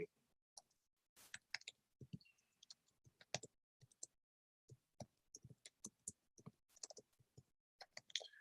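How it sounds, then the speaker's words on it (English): Quick irregular clicks of keys being typed on a keyboard, close and fairly quiet, with brief pauses between bursts. "I'm typing in the description of the show."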